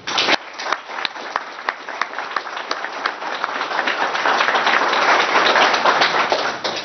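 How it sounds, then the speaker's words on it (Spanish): Audience applause for an author at a book presentation. It begins as scattered individual claps and swells into a denser, louder ovation toward the end. "Para Rafael Ibarra pido también un caluroso aplauso"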